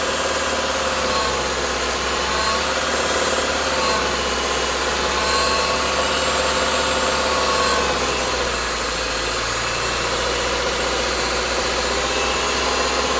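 A Subaru car engine held at about 2,000 RPM while its air conditioning is being charged, giving a loud, steady, unbroken mechanical hum with a faint whine, close by and with no talk.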